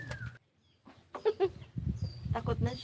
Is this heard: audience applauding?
no